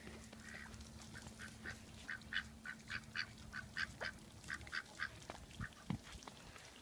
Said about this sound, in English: Chickens and the ducks and Abby.